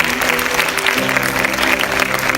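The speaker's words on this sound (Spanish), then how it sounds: "Dale una ofrenda de palmas al Señor." Church congregation clapping during a sermon, an even, continuous burst of applause with sustained musical tones underneath throughout.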